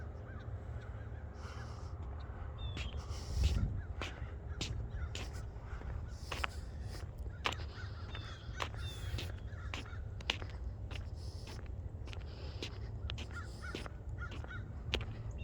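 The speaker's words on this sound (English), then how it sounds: "It's quiet, except for the crows." Crows caw repeatedly outdoors in short, sharp calls scattered over a steady low rumble of distant jet traffic, some calls near and loud, others farther off, with no talking.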